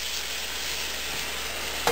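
Onion, ginger and garlic fry in a pan with tomato puree just going in for dal makhani, giving a steady close sizzle with a brief clatter at the very end; no talking.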